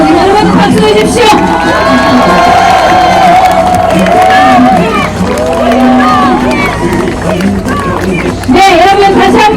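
A large outdoor crowd at a presidential campaign rally in Gangnam's COEX cheers and shouts, while an amplified voice talks loudly over the noise the whole time.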